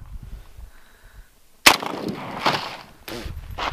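Two sharp, loud blasts from a 50 calibre gun fired at a bulletproof jacket ring out outdoors, the first after a short quiet stretch and the second about a second and a half later, each followed by a brief echo.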